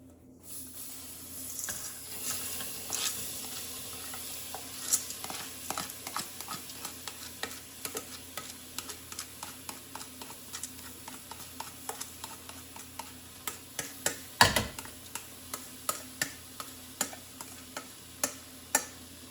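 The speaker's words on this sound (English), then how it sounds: "Now we're going to add the lentils." Red lentils stirred in a pot of dahl on the stove, a steady run of scraping spoon strokes and light ticking clinks over a soft sizzle, close and without talking.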